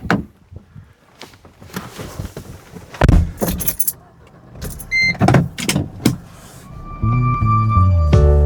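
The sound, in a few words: car, people getting in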